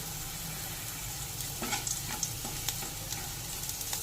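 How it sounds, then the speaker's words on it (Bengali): White cumin seeds sizzling in hot oil after potatoes were fried in it, a steady crackling fry with sharp pops and light stirring scrapes, close and fairly quiet, with no talking. "এবার ওই তেলেই সাদা জিরে ফোড়ন দিয়ে দিচ্ছি।"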